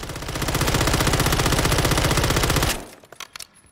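An IWI CTAR-9mm submachine gun fires full auto in Call of Duty Modern Warfare III: about three seconds of loud, rapid, unbroken shots, then the burst stops and a few faint clicks and clatters trail off.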